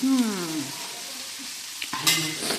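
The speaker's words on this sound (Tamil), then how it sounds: "இன்னும் எவ்வளோ இருக்குது பாருங்கள் பொரிக்கிறது." Food sizzles and crackles in a hot pan while a voice hums or speaks in tones over it; a few clinks near the end.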